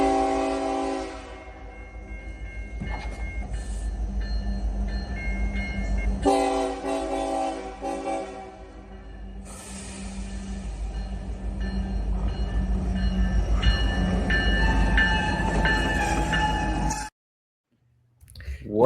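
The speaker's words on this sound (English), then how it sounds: "a van almost got hit by a train" A train passes a crossing where a Pepsi delivery van nearly gets hit, with a long horn blast, rumbling wheels and clanking cars close by. A voice is heard under it before it cuts off abruptly.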